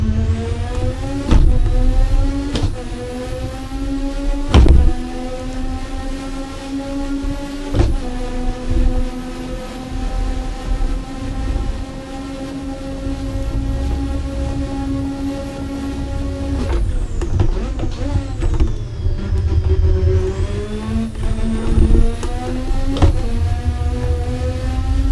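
A race car engine in Assetto Corsa holds a loud, high sustained drone, then drops sharply through several downshifts with quick revving blips, close and continuous without talking.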